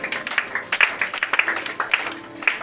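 Church congregation clapping in a steady, lively rhythm, with bright overlapping handclaps and scattered voices calling out acclaim throughout.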